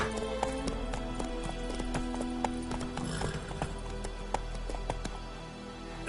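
Roach the horse trots in The Witcher 3: Wild Hunt on PS5, with sharp, regular clip-clop hoofbeats throughout over a soft game ambience.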